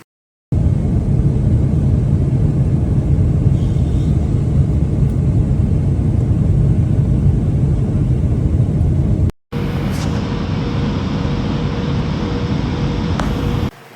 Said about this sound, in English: Now it's time to take off.